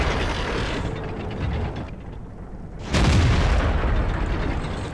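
A shell from an enemy VK tank strikes and ricochets off angled turret armor in World of Tanks, a loud booming impact around the three-second mark over a steady rumbling battle background.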